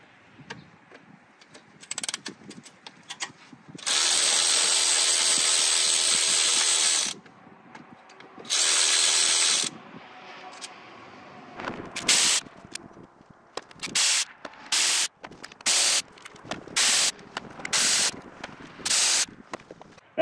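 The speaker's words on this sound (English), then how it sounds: "now we can remove the 8 10-millimeter headed bolts that hold the upper plenum on and get it out of here" Ratchet removing eight 10 mm bolts from a Subaru upper intake plenum, bursts of rapid clicking and a few long loud whirring runs of a powered ratchet, close up with no speech.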